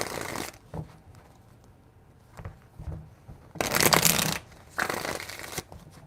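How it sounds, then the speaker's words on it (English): A deck of tarot cards is shuffled in a few quick riffling bursts, one long and loud, with quieter card handling between them. "3 shuffles."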